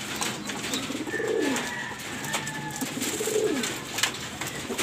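Pigeons cooing nearby in a loft while feeding on corn, two soft rolling coos a couple of seconds apart over light background rustle and ambient noise.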